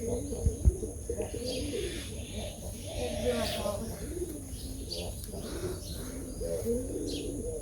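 Pet pigeons in a village coo softly and repeatedly, low rolling calls close by, while people talk over them.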